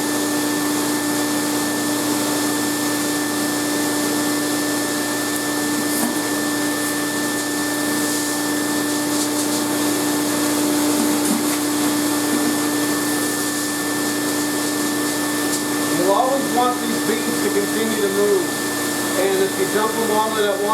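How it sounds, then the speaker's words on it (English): A fluid bed coffee roaster's fan and heater run with a loud, steady blowing roar throughout, and light crackles from roasting beans come through near the end. "turn on the fan and the heat"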